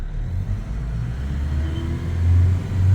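A big Fuso truck climbs a steep desert sand hill in low range, its engine a steady, close, heavy rumble that grows louder and strains toward the end.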